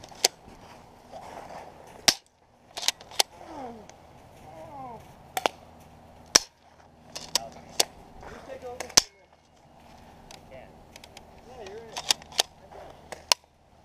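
Airsoft guns fire during a winter airsoft game: sharp single snapping shots spread irregularly, some close together, between stretches of people talking and shouting.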